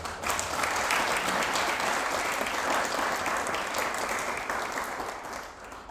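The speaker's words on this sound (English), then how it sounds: "Let's give our sponsors a well-deserved applause." Sustained applause from a live audience at a TEDx event, steady and full for the whole stretch and fading slightly toward the end, with no talking over it.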